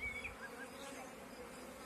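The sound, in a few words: honey bees buzzing at the hive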